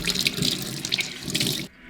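Running tap water splashes steadily into a sink as a rag soiled with latex caulk is rinsed under it, the flow close and continuous before cutting off abruptly near the end.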